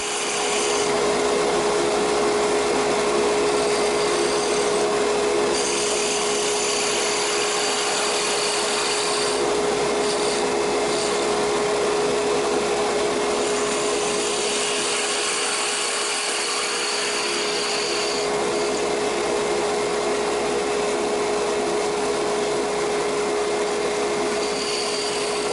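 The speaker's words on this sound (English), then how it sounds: "This wood lathe duplicator from General Tools is just perfect for making sure that each spindle is identical." A wood lathe fitted with a General Tools duplicator turns a clock spindle, giving a loud, steady whirring drone with a constant hum and a rough cutting rasp that runs unbroken throughout.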